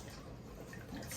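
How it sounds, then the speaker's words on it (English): Evaporated milk pours into a pot of homemade mac and cheese with a brief, soft, steady liquid splash. "Now I'm going to add my evaporated milk."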